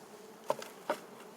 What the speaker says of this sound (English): Looks like there's quite a few bees